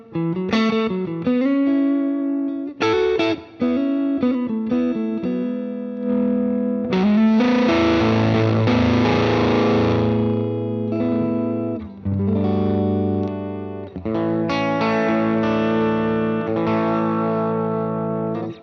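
Electric guitar through a BOSS FZ-1W fuzz pedal with the guitar volume rolled down, a mild fuzzy edge playing chords and single-note lines, fairly clean tone with some grit and sustain.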